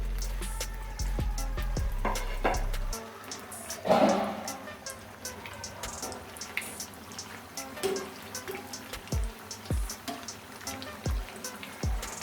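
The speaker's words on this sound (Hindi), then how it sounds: "अब सारे बड़े दोबारा से इसके अंदर डालेंगे ऑयल के अंदर। इनको फिर से फ्राई करेंगे 2 मिनट के लिए तकरीबन।" Urad dal baray dropped back into hot oil for a second fry, giving a soft steady sizzle with scattered bubbling pops and a louder burst early on, heard close with no voices.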